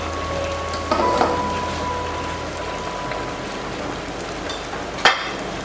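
Steady low crackling sizzle of battered potatoes frying in oil, continuous and fairly quiet, with a brief louder clatter near the end.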